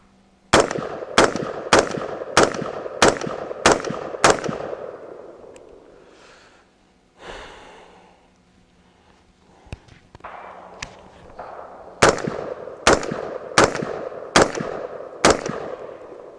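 Loud, evenly spaced shots from a Daniel Defense DDM4V7 pistol, a string of about seven sharp cracks, a quieter pause, then another run of about six, each with a short echoing tail.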